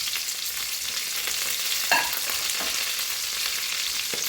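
Onions, green chillies and curry leaves frying in hot oil for a carrot, coconut and chana dal curry, a steady bright sizzle with a brief louder crackle and a few stirring scrapes, close and without talk.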